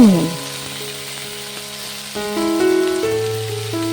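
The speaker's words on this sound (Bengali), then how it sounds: "নুন আর হলুদ দিয়ে ভালো করে নেড়ে চেড়ে বেশ লাল লাল করে ফুলকপিটা ভেজে নেব।" Small cauliflower pieces fry in plenty of oil with turmeric and salt, a steady hissing sizzle beneath a voice that talks over it, with occasional stirring.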